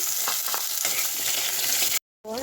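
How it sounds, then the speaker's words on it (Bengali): Diced potato frying in oil with whole tempering spices in a pan, a steady broadband sizzle with occasional stirring scrapes, close and loud, then a brief cut to silence and a new tonal sound at the end. "আলু ডুমো ডুমো করে কেটে নিয়েছি সেটা প্রথমে ভেজে নেব"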